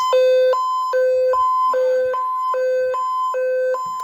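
A weather radio's alert test tone sounds loud and close, a steady two-tone siren alternating evenly between a high and a low pitch about twice a second, with no voices.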